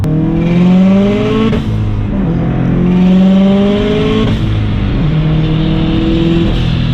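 A 600 whp turbocharged Subaru STI accelerates hard from close range, engine pitch climbing through two gear changes with a short break between pulls, loud and without talk.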